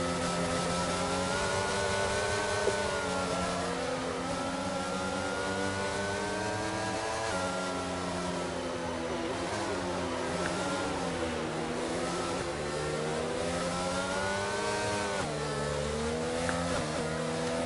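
Race cars in a racing video game circulating behind the safety car, several engines droning and revving in overlapping tones that rise and fall steadily, continuous and fairly loud.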